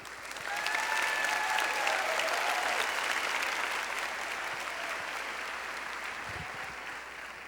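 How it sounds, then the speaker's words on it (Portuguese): Sustained applause from a church congregation after a Gospel reading fills the clip, steady and fairly loud throughout, with a faint whistle or cheer near the start. "Pode aplaudir."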